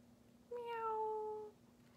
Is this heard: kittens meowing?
yes